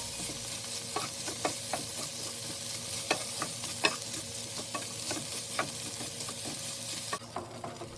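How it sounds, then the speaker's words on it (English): Food sizzles steadily in a hot pan while a utensil scrapes and stirs with scattered clicks, browning ingredients for red beans and rice, close and moderately quiet. "And stirring again. Don't you just love the sound of cooking?"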